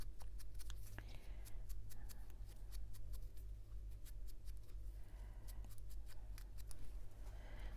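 Scissors snip repeatedly through glossy magazine paper during collage crafting, a steady run of crisp close cuts over a constant low background hum.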